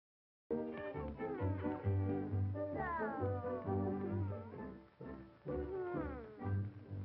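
Cartoon cat in a classic Betty Boop short meowing in a series of rising and falling wails over continuous orchestral music, loud and near.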